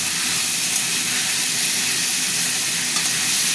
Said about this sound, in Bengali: টমেটো দিয়ে একটু নাড়বো